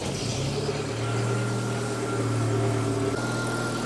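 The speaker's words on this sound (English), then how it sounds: "The engine is hot now, so I'm going to fire it up, and then we're going to check the idle speed." A hot Datsun 120Y engine runs at a steady idle, a close, even low rumble that shifts slightly in tone partway through, with no talking.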